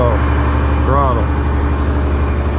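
A truck engine runs at a steady, deep, throbbing rumble close by. A short warbling voice-like sound rises briefly over it near the start.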